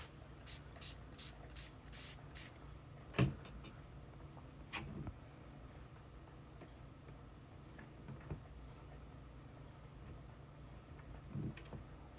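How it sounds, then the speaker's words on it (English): Several quick hissing bursts from a spray bottle onto watercolor paper at the start, followed by a few sharper spritzes and soft taps in a quiet room. "Now I can spray this area and let that run the other direction."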